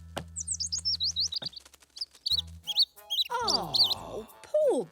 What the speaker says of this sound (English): Oh, poor baby bird. He must have fallen out of his nest.